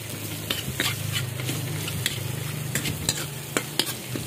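Ginger and onion sautéing for tinolang manok in an electric pan, a steady close sizzle with repeated stirring scrapes and clicks of a utensil against the pan, no voices.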